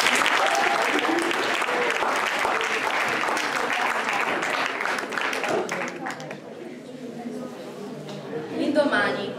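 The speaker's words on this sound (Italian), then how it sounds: "Un applauso per Nicole." Loud applause from an audience at a school orientation event, many hands clapping densely, then fading out as a voice begins speaking near the end.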